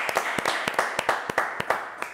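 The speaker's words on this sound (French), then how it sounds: "On va les applaudir quand même" An audience claps for live performers, with sharp, uneven claps from a small group close by.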